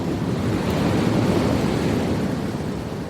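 Windy, rolling deep-blue water roars steadily, a dense broadband rush of wind and surf with no distinct single splash and no voices.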